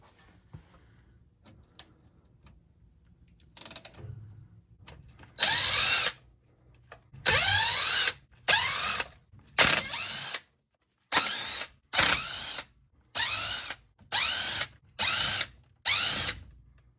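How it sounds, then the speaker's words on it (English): An impact wrench runs out the rear differential cover bolts on a 1990s Ford Ranger, with about a dozen short, loud, close bursts of rattling hammering separated by brief silences, after a few quiet clicks. "I can come back with my impact and run them out if I want to"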